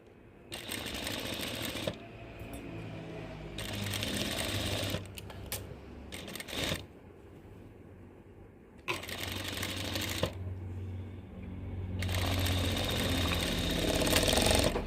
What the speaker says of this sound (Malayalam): ഞാൻ ഈ പതുക്കെ സ്റ്റിച്ച് ചെയ്ത് കാണിക്കുന്നത്